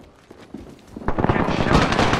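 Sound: gunfire from enemies in a video game

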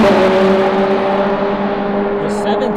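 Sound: loud time attack race car, 720 GT3X

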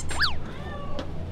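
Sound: cat meowing

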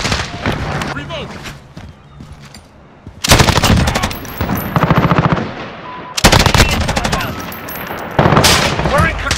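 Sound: FN Minimi machine gun firing in Modern Warfare video game

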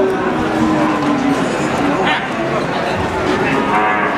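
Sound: cow mooing at a cattle market

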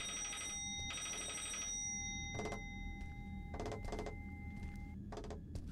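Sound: phone ringing in horror video game Inside The Walls

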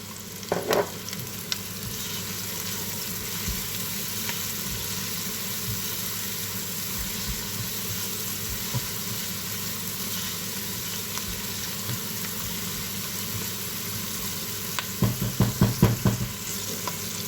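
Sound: sautéing onions with salt in a pan

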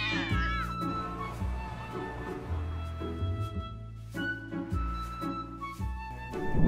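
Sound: cats meowing in a cartoon

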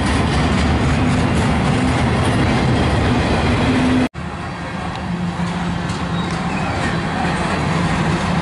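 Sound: Norfolk Southern freight train passing slowly

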